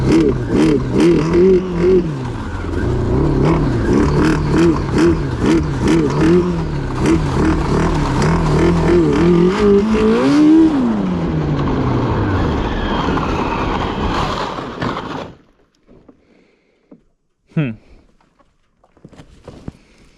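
A Yamaha RX1 snowmobile engine, parked for months, revs unevenly in loud rising and falling surges that bog and sag, then winds down and cuts off, leaving near-silence with a brief clatter.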